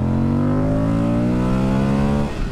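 A 2023 Moto Guzzi V100 Mandello motorcycle engine revs up steadily, its pitch climbing in one continuous loud, close rise before easing off at the end.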